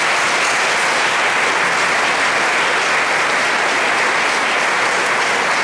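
Sustained audience applause fills a school concert hall for All-State band students after a symphonic winds performance, a dense, steady wash of clapping that stays loud and even throughout with no voices over it.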